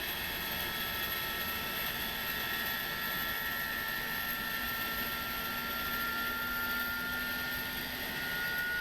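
Airbus A300-600F cargo jet engines in Microsoft Flight Simulator 2024, a steady loud whine with sustained high tones over a broad roar, continuous throughout with no talking.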